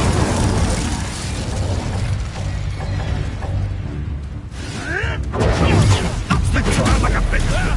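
Spell effects from Hogwarts Legacy combat, a loud churn of whooshes, booming impacts and crackling bursts, with game voices shouting over the fight.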